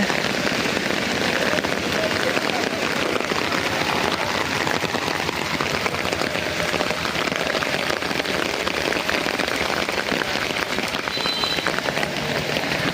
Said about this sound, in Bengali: তো রমজান মাসে এই বৃষ্টিটা হইতেছে দেখে ভালো লাগতেছে